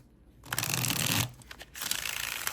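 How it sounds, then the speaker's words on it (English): A deck of Oracle of the Divine cards riffle-shuffled up close, a rapid papery flutter ending in a crisp snap, followed by a softer second riffle. "Beautiful shuffle. Absolutely love it. Great little snap to it."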